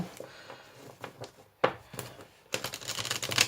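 Oracle cards shuffled by hand during a tarot-style reading, a quick papery riffle and flutter building into a busier, louder burst of card noise near the end, close and alone with no talk.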